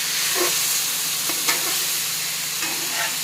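Thin pieces of steak frying in a pan, a steady close sizzle and hiss running throughout with faint stirring scrapes and small pops.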